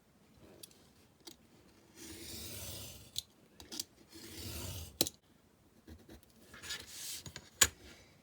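Paper is cut for a mini album cover, quiet rasping strokes as the blade slides through the sheet in two longer passes, with small taps and clicks of tools set down close by and no talking.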